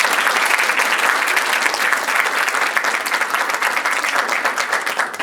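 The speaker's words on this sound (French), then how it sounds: "j'aimerais qu'on l'applaudisse bien fort, s'il vous plaît" A festival audience applauds the evening's hostess during the opening of an evening event; dense, loud, continuous clapping from a large crowd, steady throughout with no talk over it.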